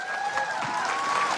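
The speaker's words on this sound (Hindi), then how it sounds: "ताली तो बजा दो अम्मा के लिए।" Audience clapping for an elderly mother at a gathering, a steady rush of applause from a nearby crowd with a voice and tonal sounds mixed in.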